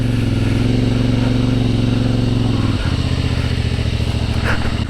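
A CFMOTO 450MT (IBEX) motorcycle engine drones steadily and loudly on a slippery off-road track, its pitch dropping partway through as the rider shifts or eases off, with no talk.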